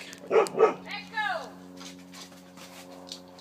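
A dog barks twice close by, sharp and loud, then gives a short whining yelp that trails off into quieter room noise, with no one speaking over it.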